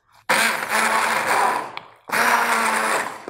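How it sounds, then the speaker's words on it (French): A small handheld immersion blender whirs through oil with parsley and garlic in two loud, steady bursts, a brief pause between them, with no talking. "Je vais mixer mon huile en persillade."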